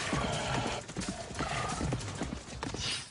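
Horse hooves clip-clop steadily across a hard surface, with a snort and whinny rising near the end over a dense, noisy outdoor background.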